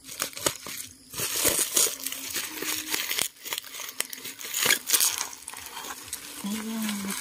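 Scissors cut open a heavy, crinkly plastic package, giving irregular rustling, crinkling and snipping bursts close up, with brief pauses between cuts and a faint hum underneath.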